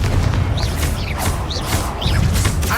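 A Confringo blast spell exploding in the Hogwarts Legacy video game, heard as a loud, dense rumbling boom with whooshing streaks repeating across a few seconds and no talk.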